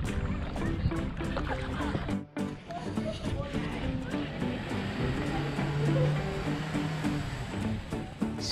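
A kayak moves across the water off Long Beach, California, with a dog aboard: a steady, close wash of water and paddle noise with knocks against the hull, and soft voices now and then.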